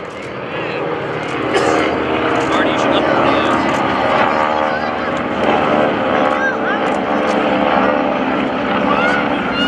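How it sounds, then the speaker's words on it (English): Steady droning roar of the radial engines of Stearman biplanes flying overhead at an airshow, continuous and fairly loud throughout, with faint talk underneath. "Now that's the sound of radial engines."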